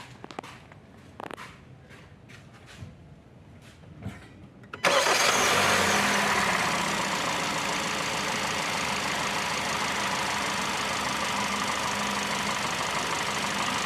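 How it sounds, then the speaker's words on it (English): A 2017 Hyundai Santa Fe with a camshaft position actuator circuit fault cranks and catches after a few seconds of quiet shuffling, then settles into a loud, steady idle that runs to the end. "So now, after getting the same voltage, I'll start the vehicle."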